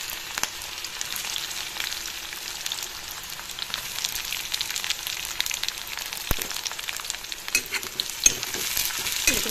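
Sliced onions fry in hot oil in a wok, giving a continuous crackling sizzle with occasional scraping stirs, moderately close and without any voices.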